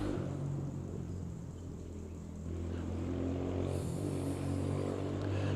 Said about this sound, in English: Must be motorbikes weekend